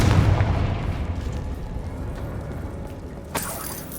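A Confringo fire spell bursts in Hogwarts Legacy with a loud, dense boom at the onset, then a long rumbling decay under steady game ambience, and a sharper crack near the end.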